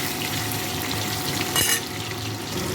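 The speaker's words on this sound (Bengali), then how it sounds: "এবার আমি ওই তেলের উপরে কিন্তু চিকেনগুলো ভেজে নেব" Chicken pieces fry in hot oil, four at a time, for biryani with steady sizzling, a brief louder burst of crackle midway, close and continuous.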